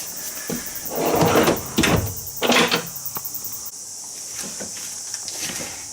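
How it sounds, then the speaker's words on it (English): Soft-close drawers and push-button marine-style latches on plywood kitchen cabinets in a converted school bus: a series of close, sharp clunks and sliding thuds, then lighter clicks and taps, with no talking. "So I've got soft closed drawers, tricky little latches, marine style latches that won't open"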